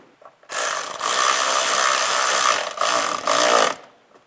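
Plastic nuts on a 2004-2010 BMW X3 are run down with a power tool, a loud close whirring burst lasting about three seconds with a couple of brief breaks.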